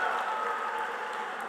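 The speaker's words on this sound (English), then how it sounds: "Let's go ahead and give him a round of applause, guys." Steady applause from an audience at a SkillsUSA opening ceremony, a dense even wash of clapping that holds without pause from start to finish.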